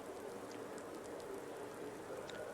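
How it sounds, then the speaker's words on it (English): Steady rain hisses through a whole race in Automobilista 2, a 1984 Formula 1 Italian Grand Prix, as an even, moderately loud wash of falling drops with no break. "Okay, we got some rain coming down, guys."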